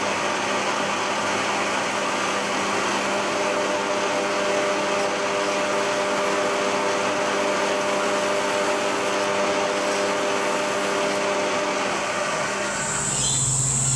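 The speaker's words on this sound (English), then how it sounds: "So we'll go back and drill the other one and we'll get them tapped." A steady, high-pitched mechanical whine runs without a break as a drill bores a hole in steel, then cuts off abruptly near the end.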